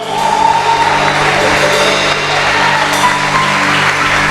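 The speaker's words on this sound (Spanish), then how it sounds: "Dale un aplauso al Señor." A church congregation applauds, a dense and loud wash of clapping that holds steady from start to finish, with faint tonal sounds in the background.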